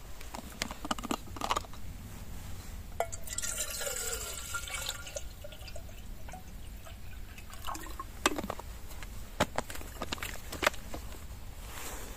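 Water trickles and splashes into a pot for tea in uneven spurts, with clinks and knocks of metal handling close by, outdoors in a forest in November.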